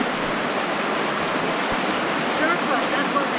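Rushing river rapids in The Narrows slot canyon of Zion National Park, a steady, loud broadband roar of churning water that fills the whole clip without break.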